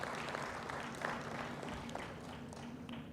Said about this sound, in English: We need to clap Gladys for this initiative,